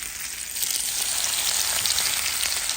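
Onions hit a very hot tajine and fry there, making a loud, dense, continuous sizzle that swells slightly after the first half-second and then holds steady close by, with no talking.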